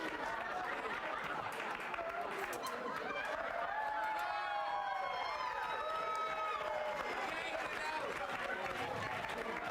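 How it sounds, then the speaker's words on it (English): Audience clapping and cheering at a magic show, a busy mix of applause, shouts and excited voices from a crowd of kids and adults, steady and fairly close throughout. "When I pull this out, I want all of you guys to like clap and cheer."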